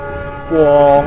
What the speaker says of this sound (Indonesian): suara klakson lokomotif terdengar jelas di sini teman-teman